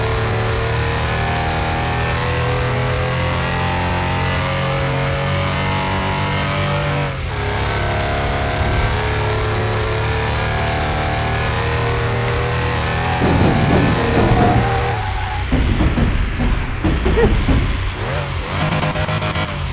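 A lowered VW Fusca on 21-inch wheels fitted with a 500 hp Boxster turbo engine revs loudly up close, a steady roar, then rising and falling throttle blips near the end.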